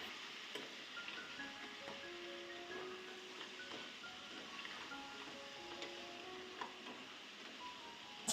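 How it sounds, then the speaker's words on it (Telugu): Blue crabs frying in a little oil for a home-style blue crab curry, giving a soft, steady, faint sizzle with a few light clicks and some thin tonal sounds in the background. "నేను కొంచెం ఆయిల్ వేసుకొని ఫస్ట్ అయితే క్రాబ్స్ అయితే ఫ్రై చేసుకుంటున్నాను."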